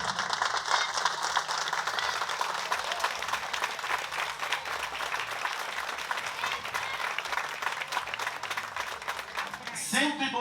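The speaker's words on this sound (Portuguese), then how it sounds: "Vamos receber com a salva de palmas," Audience applause welcoming performers carrying the Bom Jesus do Matozinho banner at a religious festival, steady dense clapping from a crowd throughout, loud and close, with voices mixed in beneath it.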